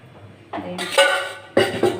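A metal cooking pot set on a lit stove with a little oil, ready for frying stuffed brinjal: a few close metallic clanks and knocks in quick succession after a short quiet start.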